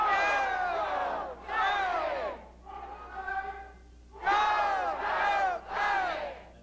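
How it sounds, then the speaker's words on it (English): Company employees in Japan shout a group banzai cheer in unison, five or six long drawn-out rising and falling cries separated by short pauses, loud and close in a large hall. "Morita's younger brother leads the troops in a banzai hurrah for the 90s."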